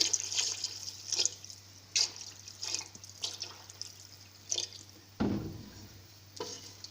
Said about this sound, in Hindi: अब मैं इसमें पानी डालूँगी, तकरीबन 6-7 गिलास इसमें पानी डालूँगी।